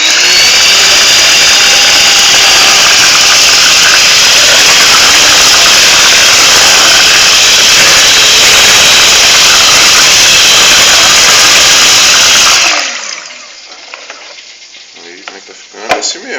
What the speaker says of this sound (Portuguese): agora vamos na batedeira